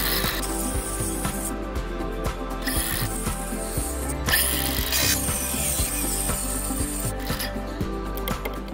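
A wooden board being cut for a camper van build, a continuous rasping saw stroke with repeated rhythmic pulses, close and loud throughout, with no one speaking.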